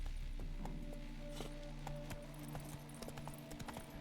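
Horse galloping in The Witcher 3, with a rapid, steady clip-clop of hooves heard close and continuous over quiet game ambience.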